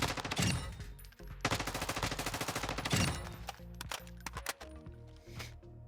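M4 rifle hip-fire in the Warzone video game: rapid bursts of loud automatic gunfire in several strings, with short gaps and scattered single shots near the end, over a layer of game music and effects.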